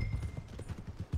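Horse hooves clip-clopping in the Red Dead Redemption 2 video game, near a town stable; a steady, fairly close rhythmic stream of hoof beats, with no talk over it.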